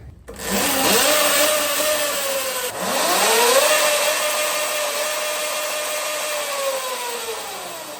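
Talaria XXX electric dirt bike rebuilt from a junkyard find, its motor whining up in pitch twice and holding a steady high electric hum, close and loud with no talk.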